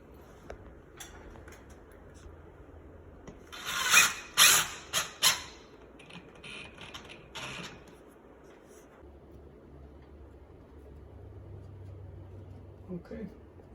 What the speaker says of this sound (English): now we're gonna cut a piece of drywall in a piece or pieces to fit that